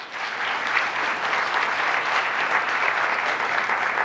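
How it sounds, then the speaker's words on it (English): Sustained applause from an audience at a mayor's ambassador forum honoring an incoming school district superintendent, a steady dense clapping that holds evenly from start to finish with no voices over it. "let's give him a big round of applause"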